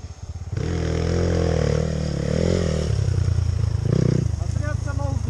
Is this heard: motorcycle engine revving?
yes